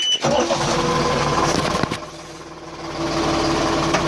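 A loud tractor engine idling close by with a steady mechanical drone that dips briefly in the middle, then picks back up.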